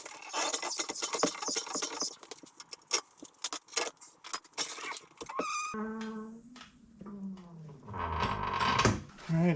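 Metallic jangling and clinks of a wrench and lug nuts on a Tesla Model 3 wheel fitted with spacers, followed by ratcheting and clattering mechanical noises, close up.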